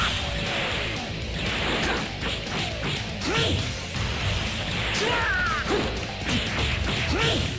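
A light grenade attack in Dragon Ball Z Budokai bursts out as loud crashing impacts, sweeping whooshes and pitched energy tones, repeating in quick succession throughout.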